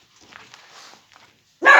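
A house dog lets out one sharp, loud bark at the end, after faint indistinct voice and room noise.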